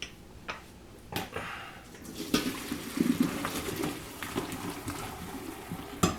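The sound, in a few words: draining boiled potatoes from a pot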